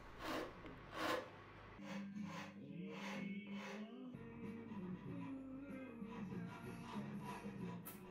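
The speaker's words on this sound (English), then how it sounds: "Rasps are used to carve the volute." A hand rasp carves the volute of a wooden baritone guitar neck, giving repeated scraping, rubbing strokes at close range with some shuffling handling noise.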